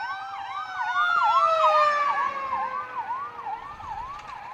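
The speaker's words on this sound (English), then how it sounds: "The fire engine's coming up behind us." A fire engine's wailing siren sweeps up and down steadily and loudly as it passes on an Indian road, heard from a car pulling aside, with its pitch dropping slightly as it goes by.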